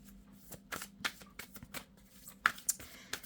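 Tarot cards handled and laid down for a reading, with soft papery flicks, slides and taps arriving in uneven bursts, close and quiet with no talk.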